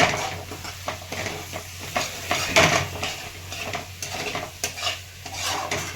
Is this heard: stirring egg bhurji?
yes